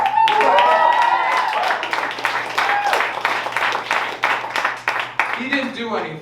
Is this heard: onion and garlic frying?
no